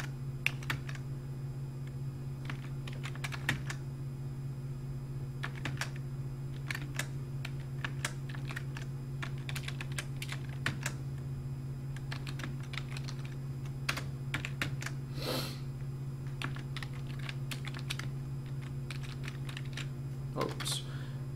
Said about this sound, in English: Got to be careful when you're typing.